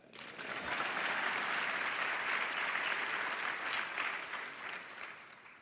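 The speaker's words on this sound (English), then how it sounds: "you can clap it up for that" A large awards-ceremony audience bursts into sustained, dense applause that holds steady for several seconds and then tapers slightly, with no voices over it.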